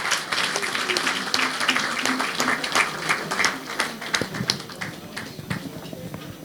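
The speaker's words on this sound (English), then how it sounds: "A round of applause for him." Applause from a dinner gathering at a royal awards event, a dense wash of clapping filling the room for several seconds, loud at first and thinning toward the end, with some voices mixed in.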